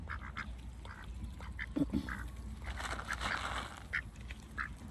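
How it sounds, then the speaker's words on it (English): Several ducks quack in short, repeated bursts over a steady outdoor background, fairly close and moderately loud. "So she hangs out in here with the ducks."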